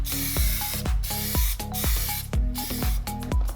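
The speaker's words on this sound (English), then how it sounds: "so what I did is I ended up plastic dipping them black" Plasti Dip sprays onto chrome trim pieces for a 9th-gen Honda Accord front lip, with loud hissing aerosol bursts coming in a repeated rhythm, close up, alone and without voices.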